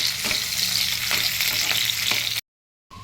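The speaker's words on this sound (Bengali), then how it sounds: "কাজু কিশমিশ, এবার এইগুলোকে হালকা করে ফ্রাই করে নেব।" Cashews and raisins fry lightly in oil in a pan, giving a steady close sizzle with occasional spoon taps, before the sound cuts to silence near the end; no talking.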